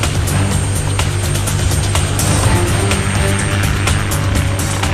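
A Fire Scout unmanned helicopter drone sits on a runway with its rotors spinning, a loud, steady engine-and-rotor roar with a droning hum and faint rhythmic chop throughout.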